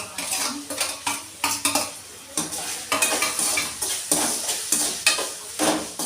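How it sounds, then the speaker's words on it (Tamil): A metal spoon scrapes and clanks rhythmically against a pan while chicken curry is stirred, with repeated close scraping strokes over a gentle sizzle. "நல்லா அடி பிடிச்சிடாமல் கிண்டி வைக்கோங்க"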